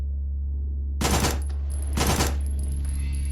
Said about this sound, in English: Should we see what the SMG can do?